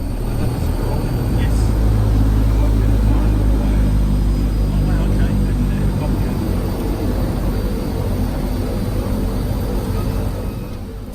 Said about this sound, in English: Listen to the incredible sound of these propellers.